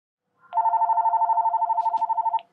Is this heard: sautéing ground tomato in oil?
no